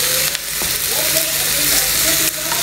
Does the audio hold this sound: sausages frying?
yes